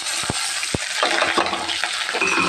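Chopped onions go into a hot pan of golden-fried garlic for a Tamil kuzhambu and start sautéing, a steady close sizzle broken by a few sharp scraping stirs of the spoon.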